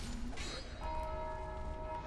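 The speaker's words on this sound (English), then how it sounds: "I hit the bell." A bell struck in the video game Dark Souls 2 rings out with a sustained metallic tone that hangs steadily over a dense background, faint and distant.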